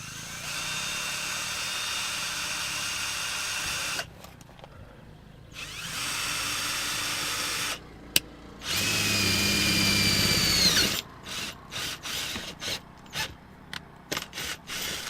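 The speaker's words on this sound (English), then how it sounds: "now literally all I'm doing is drilling a hole" A power drill bores a hole in a vehicle's bed area, loud and close in long whining runs with pauses between, then a stretch of short stop-start bursts at the end; no talking.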